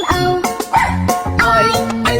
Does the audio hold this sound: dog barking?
yes